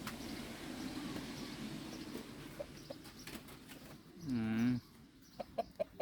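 Thai fighting roosters clucking at a provincial-level cockfighting competition, a trophy-winning bird among them, with a brief louder call standing out near the end amid steady crowd murmur and background noise.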